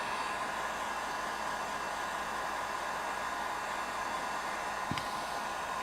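A heat gun blows steadily to shrink heat-shrink tubing and electrical tape on a dual LiPo battery adapter, giving a constant loud airy roar with no pauses.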